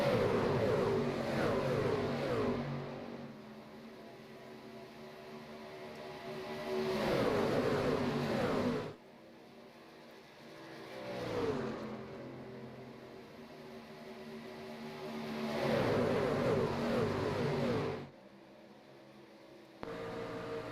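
Pickup truck racing engines from Shoney's Doghouse Racing League, rising and falling in long roaring swells as the trucks pass, loud and sustained, with quieter gaps between passes.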